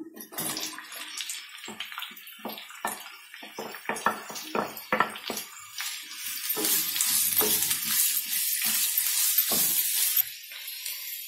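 Sliced onions are added to ginger in a hot pan for a Kerala egg roast, giving a close, steady sizzle with scraping and stirring clatter that builds as the onions fry.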